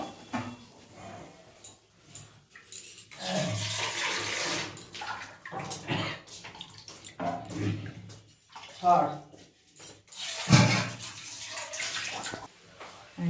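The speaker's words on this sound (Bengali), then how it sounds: "এবার আমি পরিমাণ মতো জলটা দিয়ে দেবো ঝোলের জন্য।" Water is poured into a pan of fried spice masala for an egg curry. There are two or three rushing, splashing pours with sizzling between them, fairly close, in a quiet kitchen.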